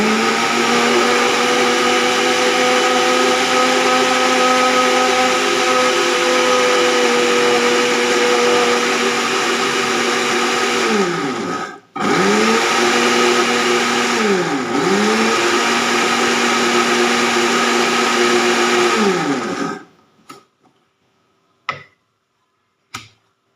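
A mixer grinder whirs loudly and steadily while grinding moong and semolina batter, its motor pitch dipping and rising through brief pauses before cutting off, followed by a few faint clicks and knocks.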